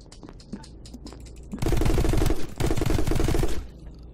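Gunshots in the video game My Friend Pedro: a few faint pops, then a loud sustained burst of rapid automatic fire lasting about two seconds that briefly stutters before stopping, close and clear.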